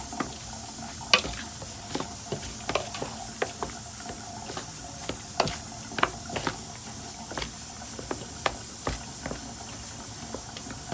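Seasoned ingredients with garlic powder being mixed by hand while cooking, a close steady hiss with frequent light stirring taps and clicks spaced irregularly, heard alone without talking.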